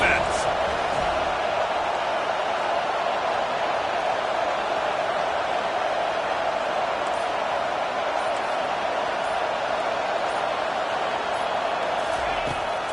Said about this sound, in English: Third down, and this crowd will blow out a vocal cord to help this defense.